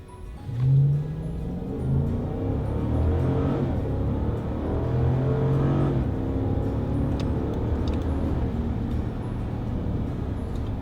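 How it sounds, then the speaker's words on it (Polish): Jeep Grand Cherokee with a 5.7-litre engine running on LPG accelerates, a steady, fairly loud engine note rising in pitch as it builds speed with no talk over it. "Za chwileczkę postaramy się Państwu pokazać przyspieszenie tego auta, oczywiście przyspieszenie na gazie."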